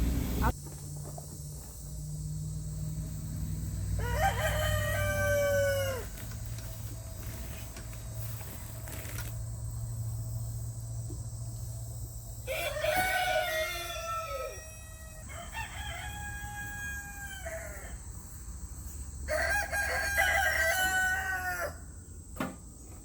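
Several roosters in a backyard chicken yard crow one after another, loud drawn-out calls repeating every few seconds over a background of outdoor noise and occasional clucking.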